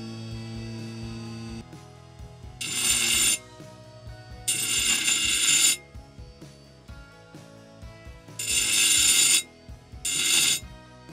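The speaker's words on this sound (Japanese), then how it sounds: "ちょっとナットを削ってみます" A small grinder built from a hard-drive brushless DC motor with a diamond wheel grinds a metal nut in four bursts of harsh, high screeching, separated by the quieter whir of the spinning motor.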